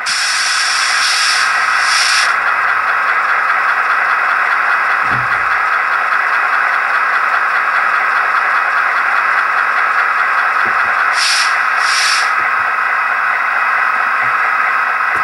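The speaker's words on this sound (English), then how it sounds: "F11 is the air compressor." Air compressor sound from an ESU LokSound decoder in an HO scale SD40-2 locomotive, a loud steady hiss running continuously with a faint mechanical thump partway through and brief brighter bursts near the start and end.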